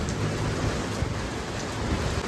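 Steady heavy rain pours outdoors at a home with rumbling thunder rolling underneath, loud and continuous without any voices.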